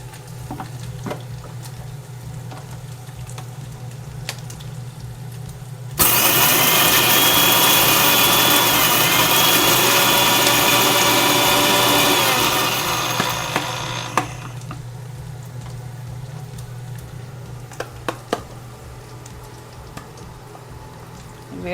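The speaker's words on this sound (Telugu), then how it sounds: "అది దూరగా వేగేసరికి మనం మిక్సీ పట్టుకుందామండి." A kitchen mixer grinder crushes roasted ingredients for a nalleru chutney, roaring loud and steady for about seven seconds before winding down, with quieter kitchen clinks before and after.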